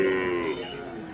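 Murrah buffaloes at a rural livestock market give a low, drawn-out moo that holds for about half a second and then fades into a quieter, murmuring background.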